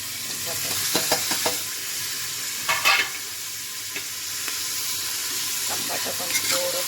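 Tomatoes hit onion frying in oil for a mutton curry, a loud close sizzle with bursts of hissing steam and several clanking stirs of a spoon against the pan.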